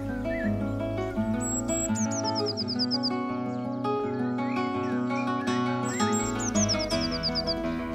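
Small garden birds such as tits chirp and twitter at hanging feeders, with bright repeated trills and call sequences over a steady, full musical backdrop.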